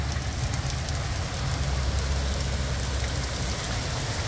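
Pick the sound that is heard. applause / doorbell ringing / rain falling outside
rain falling outside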